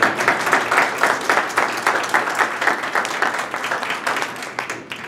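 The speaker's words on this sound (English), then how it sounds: "yes, round of applause for that." Audience at a school board meeting clapping, a brisk, evenly paced round of applause from a modest crowd in a room, steady throughout and slightly thinning toward the end.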